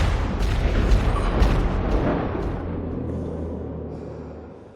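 A single gunshot in the animated film Spider-Man: Into the Spider-Verse, a loud boom that rolls into a long reverberant decay over several seconds.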